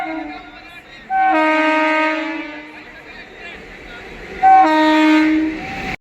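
An Indian railway Amrit Bharat Express on its inaugural Howrah to Anand Vihar journey sounds two loud, sustained horn blasts nearby, the second shorter, over a low rolling rumble.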